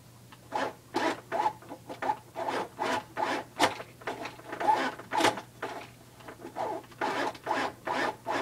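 A rapid, steady mechanical stitching rhythm, about two pulses per second, running continuously at close range with a low motor hum underneath.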